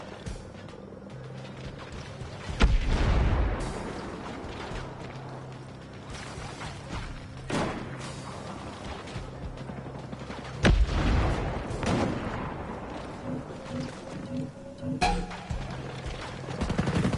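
Gunfire and a grenade explosion in Ghost Recon Breakpoint: several sharp bursts and booms punctuate a low, continuous ambient rumble, with distinct heavy blasts around three and eleven seconds and a crack near fifteen.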